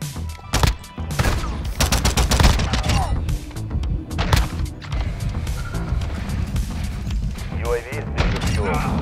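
Gunfire in Modern Warfare 2, with repeated loud shots and rapid bursts mixed with impacts and mechanical clatter, while a voice talks over part of the action.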